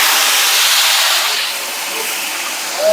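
Tomato and ginger dropped into hot oil with dried red chilli, bay leaf, whole garam masala and cumin, a loud, close, broad hissing sizzle that eases slightly partway through, with no speech over it.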